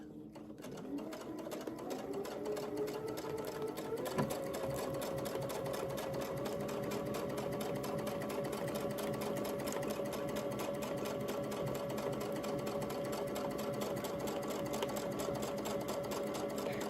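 A sewing machine quilting a fabric panel runs at a steady, fast, close hum with rapid needle stitching, after a brief start-up, continuing unbroken with no talk.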